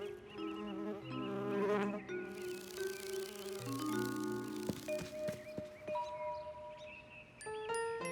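A cartoon bee buzzes in the French-dubbed animated children's show Caillou, a wavering, droning hum close by, mixed with light tinkling chimes and musical tones throughout.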